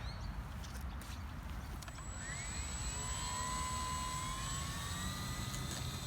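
An RC Carbon Cub S+ model airplane's electric motor whines up steadily in pitch as the throttle rises for takeoff, a continuous near, loud buzzing tone with outdoor wind rumble underneath.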